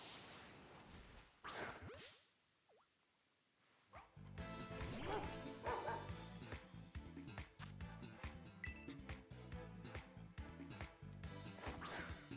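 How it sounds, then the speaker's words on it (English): In the video game Pokémon Violet, a dog Pokémon yips and barks among game effects, whooshes and whip-like cracks, over a busy layer of game music and sounds. "I'm trying to catch this dog."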